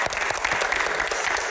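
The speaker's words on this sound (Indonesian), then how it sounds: "Tepuk tangan untuk Bang Akbar." Applause from a live audience for a guest at a Q&A session, thick continuous clapping throughout, fairly loud and close.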